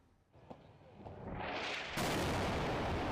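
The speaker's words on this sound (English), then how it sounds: "A massive explosion shook Beirut's southern suburbs on Monday." A massive explosion from an Israeli strike on military targets in Beirut's southern suburbs: faint distant thuds give way to a building roar that swells into a loud, sustained rumbling blast.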